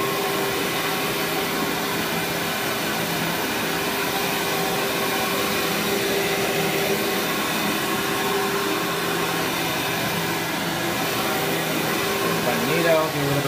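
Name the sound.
Amway CMS 1000 Clear Trak cyclonic vacuum cleaner running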